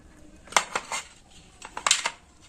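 Spice powders for egg masala curry are added to a pan: a few sharp metallic clinks and scrapes of a spoon against the vessel, close and irregular, with quiet gaps between.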